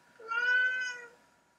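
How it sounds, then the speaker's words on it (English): A cat gives a single clear, drawn-out meow, close and fairly loud in an otherwise quiet room, rising then fading over about a second. "Oh, Nikon, you just meowed at the wrong bit there"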